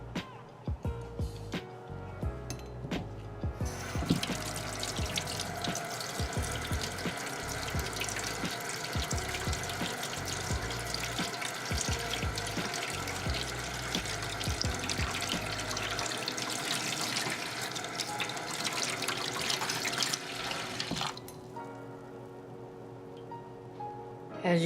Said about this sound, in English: you can go ahead and rinse